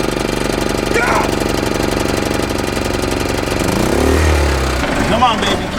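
A repaired RV engine runs with a steady, loud knocking rumble throughout, a throatier surge near the end as it is revved, and voices calling out over it.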